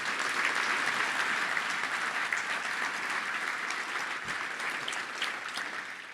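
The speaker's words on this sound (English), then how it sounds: "Let's give all those sponsors a big round of applause." Audience at a Touchdown Club luncheon in Little Rock applauds club sponsors, a steady, dense wash of clapping from a large room that holds even throughout and tapers slightly at the end, with no talk over it.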